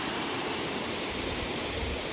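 A waterfall near Madanapalle sends water gushing and leaping in a steady, loud, close roar that fills the whole stretch without pause.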